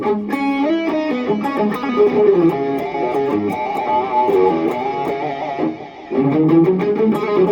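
Heavily distorted electric guitar through a Boss ME-8 multi-effects pedal, playing chords and riffs, thick and saturated with effects, loud and continuous with a brief dip near the end.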